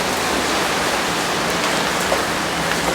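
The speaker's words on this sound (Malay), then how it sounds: "Hujan guys." Steady rain falls close by in a hiss of broadband patter for about three seconds, with no talking.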